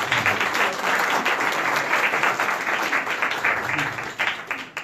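Audience at a Spanish-language debate forum applauds as a panelist is introduced, a sustained, even wash of many hands clapping at moderate level from a mid-sized crowd.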